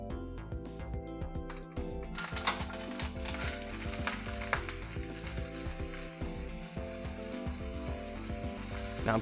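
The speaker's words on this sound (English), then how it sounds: "Now I'm cooking the bacon just enough to start rendering out the fats" Bacon frying in a pan while being cooked for quiche, a steady crackling sizzle with scattered pops and occasional utensil scrapes and clinks, close and fairly quiet, no talking.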